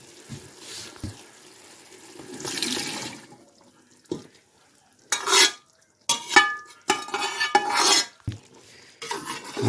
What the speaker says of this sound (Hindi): अब हम इसमें डालेंगे अपने चने।